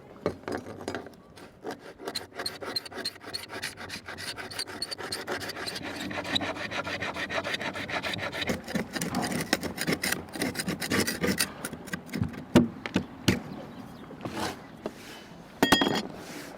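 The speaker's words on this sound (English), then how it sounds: "I'm gonna try and scrape some of the remaining glue" Continuous rasping scrape of a tool scraping old glue off a Kingfisher 30 cruiser boat, rhythmic back-and-forth strokes close up, with occasional clinks and taps.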